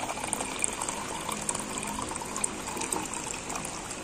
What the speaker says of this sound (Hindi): थोड़ा पानी डाल लेते हैं।